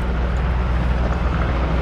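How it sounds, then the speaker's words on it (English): A helicopter passes overhead on International Drive in Orlando, Florida, a steady, loud rotor-engine drone, constant and low-pitched throughout with no pauses. "Helicopter."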